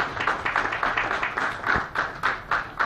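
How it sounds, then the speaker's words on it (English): An audience of students at a cricket conference's closing vote of thanks gives steady, moderately loud clapping, a continuous patter of many hands with slight swells, carrying on without voices on top. "Actually, we should clap for them."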